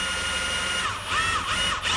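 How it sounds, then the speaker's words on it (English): A power drill whirs loudly and steadily up close as it drills out a metal fan motor housing from a two-speed Ford Taurus fan, its pitch dipping briefly under load a few times. "The easiest way to get that bushing in was to drill out the housing of the motor"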